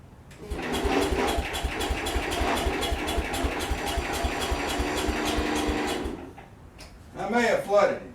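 A 1966 Wheel Horse garden tractor engine cranks for about six seconds in a steady, loud, rapid chugging rhythm without catching, then stops; someone speaks briefly just afterward.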